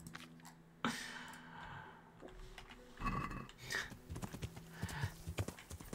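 Clip-clop hoofbeats and a short horse whinny from a video game horse, with snorting sounds, fairly quiet and close, in a brief irregular sequence.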